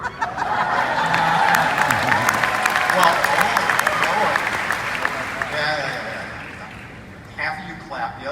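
Applause from a large conference audience at a real estate company's tech keynote, broad and sustained with some laughter and chuckles mixed in, under a speaker's voice that carries over it throughout.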